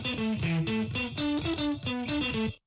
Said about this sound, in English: If we add this EQ here, which takes out the high frequencies, we'll really be able to hear the difference between the distorted signal with high frequencies and without.